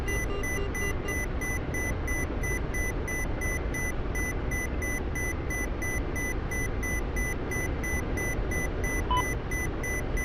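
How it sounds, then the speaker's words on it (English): A cockpit warning alarm in a DCS World helicopter beeps in fast, evenly spaced pulses over the steady drone of rotor and engine noise, with no one speaking. "Oh, I hear something beeping."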